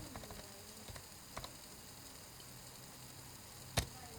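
Faint, sparse clicks of computer keys while figures are entered into accounting software, a few light taps scattered over a quiet hum, with one sharper click near the end.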